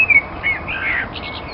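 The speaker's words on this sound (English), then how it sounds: "Go on, blackbird, have a good old sing song." A blackbird sings on a garden allotment in April, with fluttery whistled phrases and a few brief chirps close by and fairly clear against a quiet outdoor background.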